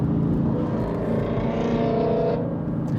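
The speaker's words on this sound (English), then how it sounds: "Oh, that's just the F80 first gear." Drivetrain noise from a BMW F80 M3 in first gear, a close, loud mechanical whir and engine drone holding steady for a few seconds with no talking.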